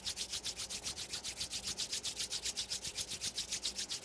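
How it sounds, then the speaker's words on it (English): Palms rubbing briskly together during a yoga practice, a soft rhythmic swishing of skin on skin at a steady back-and-forth pace, quiet and close with no voices. "Rub the palms together."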